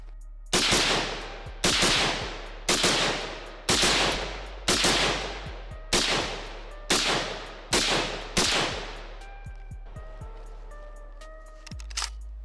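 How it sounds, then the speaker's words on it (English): Rapid gunfire from an AR-15 rifle fitted with a 3 lb Timney competition trigger, about nine sharp, loud shots in quick succession, each ringing out with a short echo, followed by a few quieter metallic clicks and rattles. "You can dump some rounds downrange pretty fast with this."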